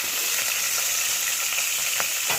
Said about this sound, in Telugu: పచ్చిమిరపకాయలు వేసుకోవాలి. పేలుతాయి కదండి